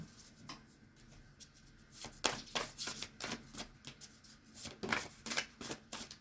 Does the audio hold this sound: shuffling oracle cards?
yes